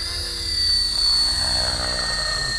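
A Belt CP V2 RC helicopter flies at a rural property, its small electric motor giving a steady high-pitched whine with a rotor hum, fairly loud and continuous, swelling slightly in the middle with no talk.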